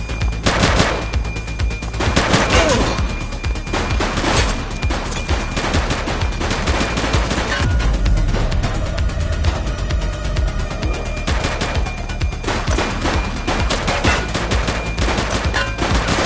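Dense, sustained gunfire in the police game The Precinct, with rapid automatic bursts and overlapping shots that keep up loudly and continuously, with no pauses, from start to finish.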